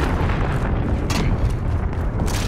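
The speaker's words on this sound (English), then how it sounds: "Enemy cruise missile incoming." A cruise missile detonating in Call of Duty: Modern Warfare multiplayer, a loud sustained low rumbling blast that rolls on with a heavy boom and debris roar throughout.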